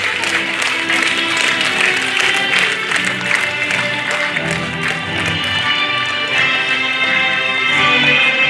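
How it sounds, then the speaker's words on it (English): A crowd applauds steadily as graduates in red and blue gowns step onto the stage at a graduation ceremony, dense loud clapping sustained throughout with faint voices mixed in. "Let us all clap for them on their step onto the stage."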